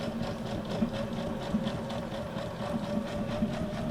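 A sewing machine stitches a junk journal made from a Little Golden Book, running in a steady, continuous mechanical hum with rapid needle ticking, close and moderately loud with no talk.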